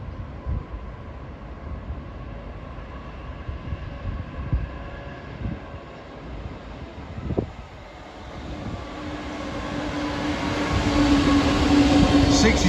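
A Class 66 diesel locomotive hauls a Southampton intermodal freight train under a 30 mph speed restriction; a low rumble and clanks build into a louder, rising approach with a sustained tone near the end.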